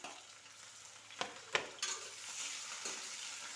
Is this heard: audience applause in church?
no